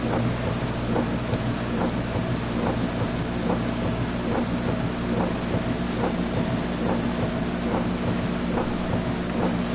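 In the Dirt Rally 2.0 rally game on a Wales stage, steady heavy rain hisses with a constant low rumble of thunder beneath, broken by faint rhythmic ticks.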